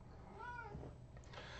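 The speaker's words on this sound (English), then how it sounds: "And I have a cat." A house cat meows once, a short rising-falling cry in a quiet room, followed by faint rustling.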